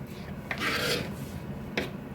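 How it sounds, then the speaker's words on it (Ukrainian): A knife slices through an onion on a board, with two short, crisp cuts cutting through a steady rasping kitchen hiss. "Ріжу цибулю."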